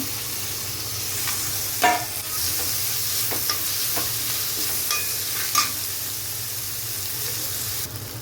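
Ondelaga greens fry with a pinch of turmeric in a pan, giving a steady, even sizzle close by, punctuated by a few scattered clicks and scrapes from stirring.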